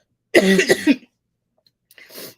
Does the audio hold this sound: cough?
yes